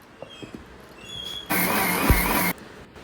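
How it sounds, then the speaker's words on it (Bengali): A mixer grinder whirs loudly, grinding semolina and sugar into powder in one steady burst of about a second, after a few soft handling taps. No one speaks. "এই মিক্সার গ্রাইন্ডারে বেশ খানিকটা সুজি নিয়ে নিব আর নিয়ে নিব পরিমাণ মতন চিনি তারপর এ দুটোকে ভালো মতন মিক্সিতে গুঁড়ো করে নিতে হবে"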